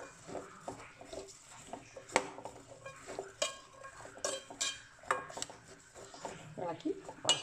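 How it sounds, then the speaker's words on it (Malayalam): Cassava being stirred and mashed in a pot, with clattering scrapes and knocks of a utensil against the pot in an uneven rhythm, close and moderately loud, no one talking. "ഇത് നന്നായിട്ട് ഇളക്കി നമുക്കിത് ഉടച്ചെടുക്കാം."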